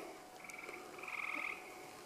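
Leopard frog croaking in a brief soft trill, faint and close, against quiet outdoor background with no talk.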